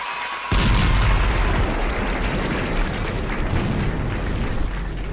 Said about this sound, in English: We have to hype it up with the explosions and the hype.